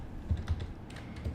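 Keystrokes on a computer keyboard while a web address is entered in a browser, a few soft irregular taps, quiet and close, with no talking.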